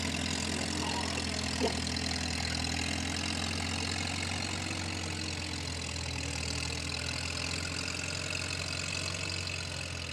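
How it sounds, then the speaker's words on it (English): A Minneapolis Moline Model U tractor idles at a barnyard tractor pull, a steady low engine rumble running continuously at close range with no talk over it. "The old Model U was a very popular tractor for Minneapolis Moline."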